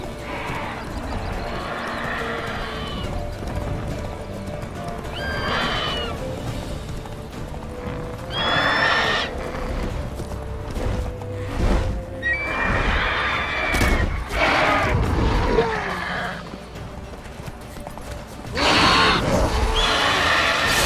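Horse in The Witcher 3: Wild Hunt whinnies several times over steady clip-clopping hooves, with a galloping rhythm, brief impacts and game ambience, close and fairly loud throughout.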